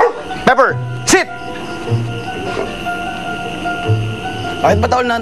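A dog yips, barks and whimpers in several short bursts, close and fairly loud, mixed with excited calls and whines, while people talk nearby.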